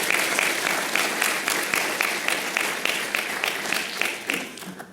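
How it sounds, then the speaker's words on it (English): At a symposium wrap-up, an audience gives a round of applause for the committee, a full burst of rhythmic clapping that holds steady and then tapers off near the end. "And let's give a special round of applause for Jim Tien."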